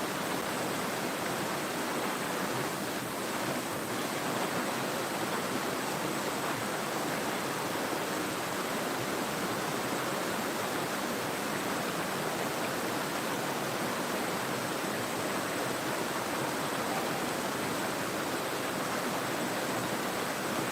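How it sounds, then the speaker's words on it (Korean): A mountain valley stream at Ssanggok Valley in Goesan, with water rushing in a steady, unbroken hiss that stays even throughout, fairly soft and with no voices. "잠시 짬을 내서 시원한 계곡에 왔습니다."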